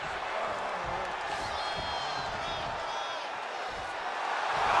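Wrestling arena crowd in WWE 2K25 video game, a steady broad roar of cheering with some whistles and whoops, swelling louder toward the end.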